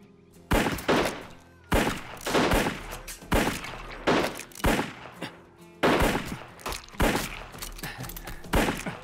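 Rapid bursts of gunfire in a movie action scene, repeated sharp loud volleys roughly every second with echoing tails, dense and close.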